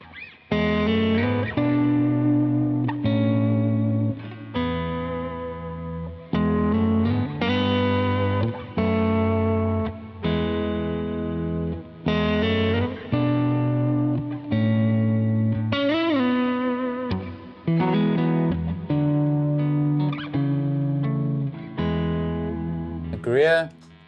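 Electric guitar through a Line 6 HX Stomp XL with a Greer compressor pedal, evenly sustained chords and notes in steady phrases with short breaks, close and strong, ending in a brief squealing bend.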